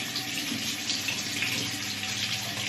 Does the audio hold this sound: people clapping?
no